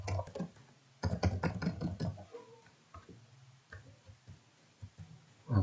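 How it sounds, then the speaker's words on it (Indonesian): Close-up computer keyboard typing: quick bursts of clattering keystrokes, then sparser individual taps with short pauses between them. "anggap saya mengetik di sini"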